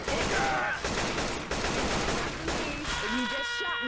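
Rapid gunfire in the zombie shooter Left 4 Dead 2, loud sustained bursts with brief gaps, overlaid by game noise and other sounds toward the end.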